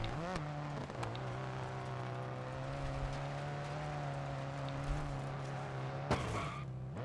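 Rally car engine in the DiRT 4 racing game drones at a steady high rev with a constant harmonic whine, briefly dipping and surging near the start and end, moderate loudness and no voices.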